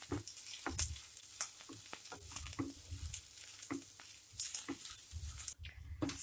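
Onions sizzle and crackle in a hot pan for South Indian lemon rice, a steady close frying hiss with soft stirring pops throughout and no talk.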